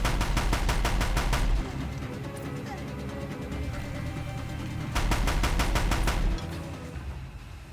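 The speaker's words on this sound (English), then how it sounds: "Heavy machine gun." A heavy machine gun fires in the video game Horizon Zero Dawn in two loud, rapid bursts of evenly spaced shots, each lasting over a second, with a quieter stretch of low ambience between them.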